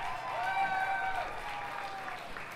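Talent show crowd applauding and cheering for the winner, steady clapping with a voice carrying over it, filling the room at moderate loudness.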